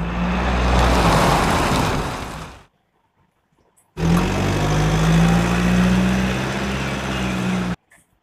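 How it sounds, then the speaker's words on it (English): Bus engine droning in two long stretches of steady, loud, low rumble with a slight roar, separated by a short silence; no voices. "BUS. Bus."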